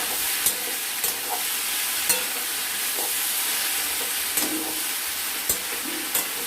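Onion, green chili and ginger paste with cumin powder frying in a pan, a steady broadband sizzle with occasional sharp clicks of stirring, close and fairly loud, no voices.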